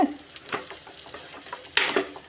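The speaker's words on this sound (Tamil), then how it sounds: "போட்டுட்டு நல்லா கிளறி விடணும்." A spoon stirs ingredients frying in a pan, making repeated scraping strokes and light clinks over a soft background sizzle.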